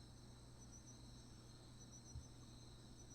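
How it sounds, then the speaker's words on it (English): Soft, steady cricket chirping, a continuous high trilling drone at low volume, heard alone over faint background hum. "Sounds like crickets."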